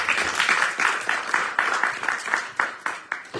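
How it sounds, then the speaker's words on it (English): A small audience at a religious talk gathering in Houston claps in a loose, rhythmic round of applause, close and fairly loud, pulsing evenly for a few seconds. "Please everybody give a round of applause."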